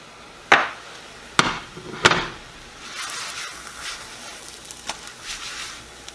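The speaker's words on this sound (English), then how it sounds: "So now I'm just going to put my chicken sausage on there." Chicken sausage goes into a pan: a few sharp knocks and clatters come first, then a soft steady sizzle of cooking with light scraping, close and moderately loud.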